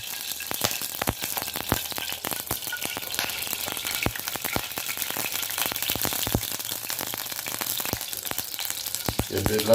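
Ghee sizzling and crackling steadily in a pan on a stove while carrot halwa is made, a loud, dense frying hiss that runs without a break, with faint clicks now and then.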